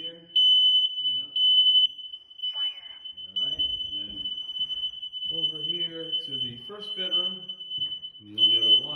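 Interconnected residential smoke detector alarm sounding from a bedroom, a constant shrill high tone running the whole time beneath someone talking nearby.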